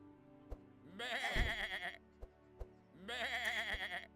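Sheep bleat in Across the Obelisk, two drawn-out wavering cries about two seconds apart over a quiet game backdrop punctuated by faint clicks.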